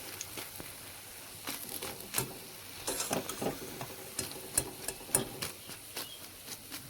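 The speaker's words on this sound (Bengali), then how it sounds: "বিউলির ডালের পকোড়াগুলো কিন্তু খুবই মচমচে এবং খাস্তা হবে এইভাবে ভাজলে" Urad dal pakoras frying in hot oil, a steady soft crackle and sizzle with scattered louder pops and stirring clinks, close by and alone with no talk.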